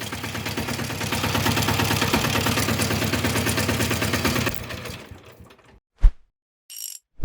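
Walk-behind tractor engine running with a rapid mechanical clatter, loud and close, then cutting out and falling quiet apart from a couple of sharp knocks and a brief higher rattle.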